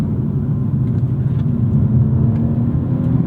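A BMW 230i accelerates hard with a steady, loud engine drone and low rumble, the gearbox shifting up on its own; no voices over the sustained powerful note.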